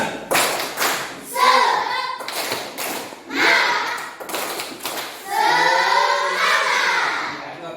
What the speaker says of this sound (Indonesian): mari kita melakukan tepuk semangat